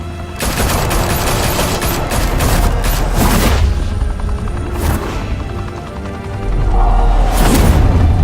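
Sustained automatic gunfire from armed men in Batman: The Telltale Series, loud and dense bursts with heavy booms and low rumble running through the whole stretch, no voices.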